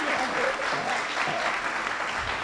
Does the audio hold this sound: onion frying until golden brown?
no